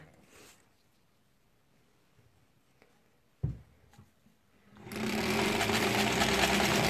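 Sewing machine stitching small improv quilt pieces together, starting after a few quiet handling clicks and then running as a steady, close, rapid whir.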